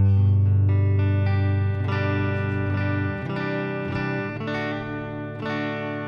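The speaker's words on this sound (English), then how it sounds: "My bass tone is a Nash T63 with Lawler pickups in it going into my HX Stomp with the Deluxe Reverb amp attached" A Nash T63 bass with Lawler pickups plays through an HX Stomp set to a Deluxe Reverb amp model with a touch of reverb, sustained low notes giving way to a run of plucked, ringing notes, with no talking.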